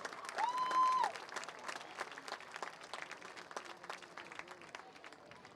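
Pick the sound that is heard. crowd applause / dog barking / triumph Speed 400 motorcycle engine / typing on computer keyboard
crowd applause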